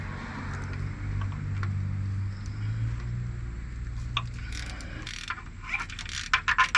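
A ratchet with a 10 mm socket clicks as it works loose the timing chain tensioner bolt on a 3.6L Pentastar engine, close and moderately loud amid a low mechanical hum, with a burst of quicker clicking near the end.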